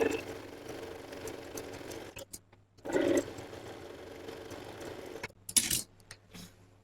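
Sewing machine making a few short stitches on a salwar cuff, brief mechanical whirs and clicks separated by quiet handling sounds.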